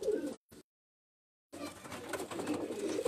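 A championship-bred pigeon on a rooftop coos softly in short low murmurs, a brief call, a pause of silence, then a longer burst of cooing.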